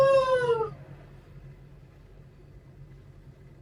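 A dog lets out a short rising howl, close and fairly loud, that fades within the first half second into near silence.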